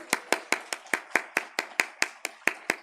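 At a Christmas Sunday church service, about a dozen evenly spaced sharp claps ring out in a steady rhythm, fairly quiet and close, with no talking.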